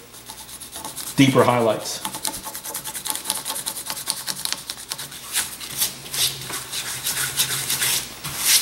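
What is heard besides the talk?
rubbing fibreglass-reinforced concrete surface by hand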